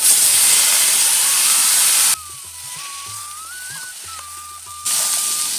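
Loud hissing sizzle as boiled cowpeas hit a hot tempering of urad dal, dried red chillies, curry leaves and asafoetida. The sizzle drops away midway to a quieter stretch with a thin tone, then bursts back near the end.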